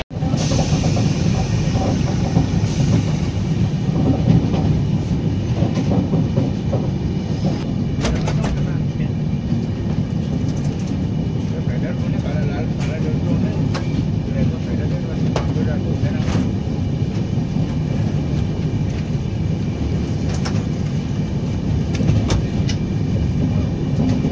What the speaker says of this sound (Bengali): আমাদের ট্রেন এই দাঁড়িয়ে আছে, হাওড়া সুপারফাস্ট এক্সপ্রেস।